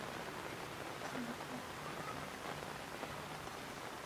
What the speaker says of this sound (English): Sitting out here and watching the rain.